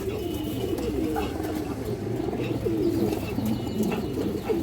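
Female pigeons at a pigeon farm coo repeatedly at close range, their soft, throaty rolling calls overlapping in a continuous chorus.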